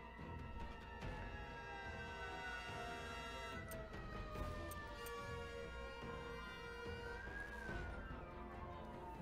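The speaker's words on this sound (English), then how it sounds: "there's like sirens in the background" Emergency sirens wail faintly in the distance under a steady background hum, their rising and falling tones drifting in and out.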